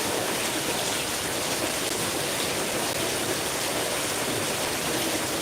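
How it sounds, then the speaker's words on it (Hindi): Heavy rain pours down over a village, a dense, unbroken roar that stays loud and even throughout with no other sounds. "इतनी तगड़ी बारिश हो रही है।"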